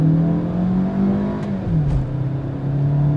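A 2022 Maruti Suzuki XL6 with a 6-speed automatic gearbox accelerates at full throttle in D mode, its engine note climbing steadily and then dipping briefly at a smooth gear shift, heard from inside the cabin.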